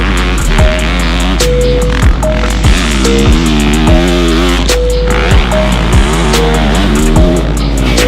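A 2022 Yamaha YZ450F dirt bike is ridden hard, its four-stroke engine loud and close, revving up and dropping repeatedly through gear shifts with a constant blaring tone.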